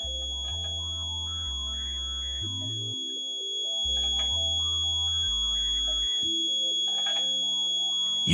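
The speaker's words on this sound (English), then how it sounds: "When you hear the tone drop, change direction." A steady electronic satellite-dish alignment meter tone for KA-SAT 9° East that holds, then steps down in pitch, with a high constant whine running throughout.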